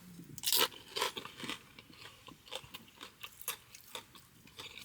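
Someone bites into crunchy nacho chips at a taco spot, giving a few loud crisp crunches up close followed by softer, irregular chewing crackles.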